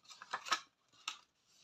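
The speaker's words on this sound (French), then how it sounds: "on vient plier aussi les petites pattes" Paper card tabs are folded by hand, producing a few short, crisp creasing crackles close by, then a pause and a softer crinkle in an otherwise quiet room.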